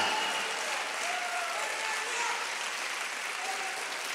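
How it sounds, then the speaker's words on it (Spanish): Sustained congregation applause at a church service, at a moderate distance, steady and even throughout, with faint voices mixed in. "Dale un fuerte aplauso al Rey de los Reyes."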